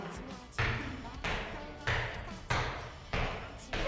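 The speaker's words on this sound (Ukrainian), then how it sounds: "І знову м'ячки пострибали" Balls bouncing on a floor during a toddlers' morning exercise session with balls, six loud thuds at a steady pace of about one every 0.6 seconds, with faint children's voices and room noise between them.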